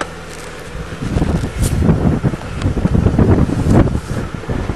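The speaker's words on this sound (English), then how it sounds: "It's awful windy today," Strong wind buffets the microphone outdoors on a farm in loud, gusting rumbles that swell and roar steadily for several seconds, with no voices.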